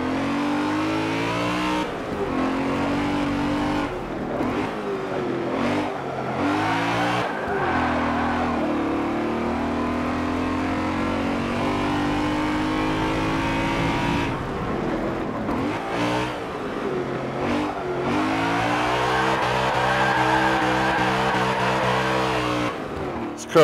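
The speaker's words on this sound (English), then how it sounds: "Car is so easy to drift." A race car in Forza Motorsport 7 drifting, its engine revving hard and rising and falling in pitch through repeated shifts, with tire squeal and skidding across a long, loud stretch.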